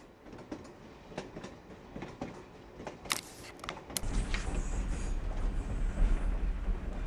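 A train rolling along rails, heard as a steady rumbling clatter with scattered clicks and a brief squeal before growing louder and denser midway, a sound effect within a children's read-aloud story.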